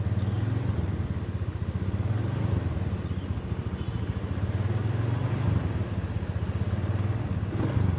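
Suzuki Skydrive scooter engine running steadily near, a continuous low puttering drone with a fine rapid pulse throughout and no rising rev, the tone staying level for the whole stretch after a carburettor slide adjustment.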